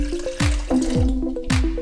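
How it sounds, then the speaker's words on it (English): A cup of water goes into a pot of meatball soup, giving a run of wet splashing and dripping plops with a gurgling tone, several distinct drops about every quarter to half second, close and alone. "I'm going to put 1 cup of water."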